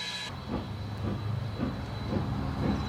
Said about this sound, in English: The Big J now gets into its stride as it sets off southwards towards Hamilton